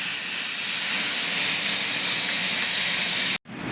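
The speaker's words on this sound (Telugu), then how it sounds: "ఇప్పుడు కుక్కర్ గ్యాస్ తీసేద్దాం." A pressure cooker on a gas stove releases steam in a loud, steady, sustained hiss that cuts off abruptly near the end, followed by a quieter hiss.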